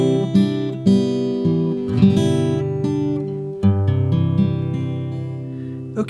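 Fingerstyle acoustic guitar plays a slow, piano-like outro riff from a song, plucked notes and chords ringing one after another with a few firmer attacks, close and clear without talk.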